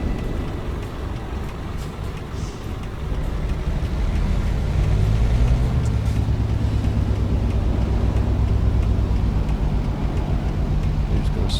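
A Magirus Deutz 19/22D TE truck engine in Euro Truck Simulator 2 rumbles low and steady, its throbbing drone swelling louder partway through as the revs climb.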